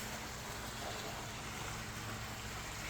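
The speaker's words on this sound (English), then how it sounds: "You hear that water splashing." Steady, faint wash of splashing water drifts in from outside a house in Cape Coral, a soft continuous broadband hiss with no breaks or distinct splashes.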